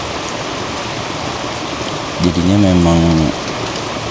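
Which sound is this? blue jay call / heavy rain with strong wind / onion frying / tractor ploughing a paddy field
heavy rain with strong wind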